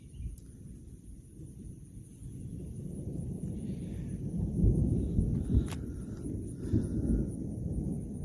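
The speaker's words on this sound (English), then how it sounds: "Yep, we got a storm coming." Distant thunder rumbles low and continuously as a thunderstorm approaches from the south, with a couple of louder swells midway and faint outdoor ambience.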